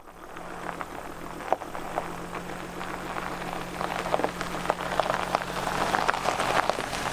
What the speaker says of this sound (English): Turned into a really rainy day,